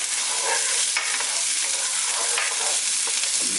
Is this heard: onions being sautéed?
yes